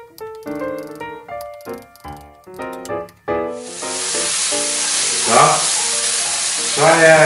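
Onions frying in fat in a pan for beef Stroganoff give a steady, close sizzling hiss that starts partway through, after a stretch of light music, and swells a little near the end.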